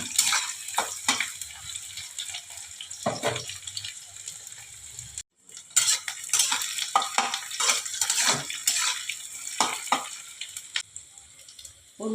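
Onions with about a spoonful of sugar fry and sizzle steadily in a pan, with a spatula scraping and stirring through it now and then. A short pause breaks the sizzle, then it carries on near and loud.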